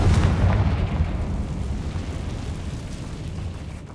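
A Confringo blasting spell in Hogwarts Legacy goes off as a single heavy, rumbling boom that slowly fades over several seconds, with no talking.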